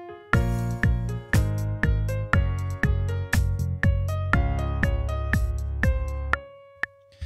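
A melody line played back in Logic Pro X: about a dozen bright, plucked-sounding notes in a steady rhythm, each ringing briefly, ending on a longer held note before a short silence.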